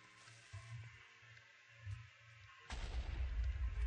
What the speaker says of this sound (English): That one did a little bit bigger of an explosion.